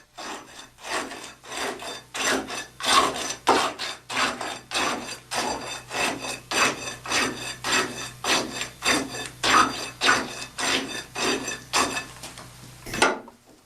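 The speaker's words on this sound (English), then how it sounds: "Rod the layer 25 times, making sure you penetrate the second layer about 1 inch" A tamping rod strokes a fresh layer of concrete in a test vessel, a steady run of about two dozen rhythmic scraping thrusts that sound close and fairly loud with no talk, then stop abruptly.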